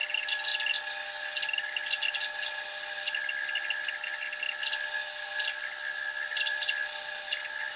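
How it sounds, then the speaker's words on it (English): A bandsaw cuts a tapered wooden foot for a bathroom vanity, a steady close high-pitched whine with a faint rasping texture throughout and no talk. "Now I'm going to go to my bandsaw."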